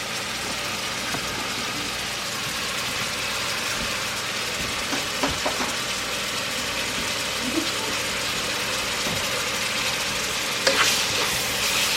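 Onions sizzle steadily in a pan while being stirred, a continuous close frying hiss broken by occasional scrapes and clinks of the utensil.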